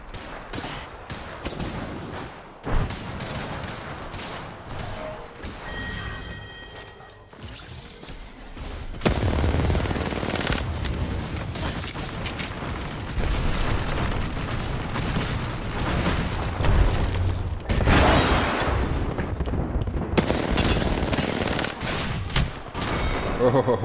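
Gunfire in the video game Apex Legends, long rapid bursts emptying a magazine, with booms and impacts, loud and dense, and a voice speaking in places.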